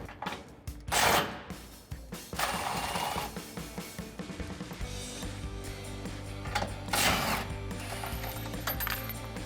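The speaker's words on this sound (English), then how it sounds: "With a 16mm socket, we can remove the 2 nuts on either side that are holding the bumper to the frame rail right here." A 16mm socket on a ratchet loosens the nuts holding a Jeep Gladiator JT rear bumper to the frame rail, giving close, rapid metallic clicking in bursts with clanks and taps between.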